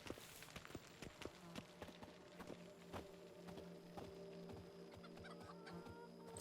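Chickens cluck in a Witcher 3 village yard, the bursts short, irregular and moderately close over a steady murmur of ambient background, with no talk.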